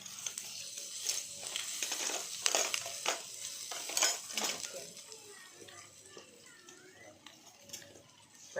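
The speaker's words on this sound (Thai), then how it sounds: "แล้วก็คนไข่" Eggs are stirred in a pan at a grilled-meat restaurant, with scraping and clinking of utensils over a soft sizzle, while people talk in the background.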